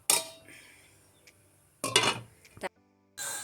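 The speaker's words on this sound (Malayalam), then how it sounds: "ഇനി നമുക്ക് ഒന്ന് നല്ലപോലെ തിളയ്ക്കാനായിട്ട് നമുക്ക് അടച്ച് വെക്കാം" A metal lid clanks onto a cooking pot of dal palak (lentils and spinach) in a home kitchen, with a few sharp clinks and clatters separated by quiet gaps.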